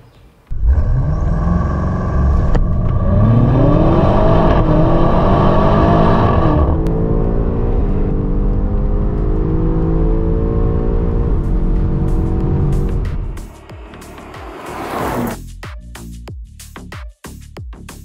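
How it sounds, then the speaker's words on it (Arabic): A BMW X5 M Competition SUV with its stock exhaust in M mode roars loudly up close as the engine revs and climbs, holds a deep steady drone, then drops off into crackles and pops near the end. "هذا هو صوت السياره هاي مع فتحه الاكزوست M مود"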